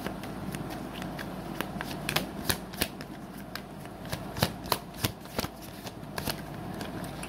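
Tarot cards are shuffled by hand in a quiet room, a soft continuous riffling broken by a series of crisp slaps and taps as the deck is squared, close and fairly faint.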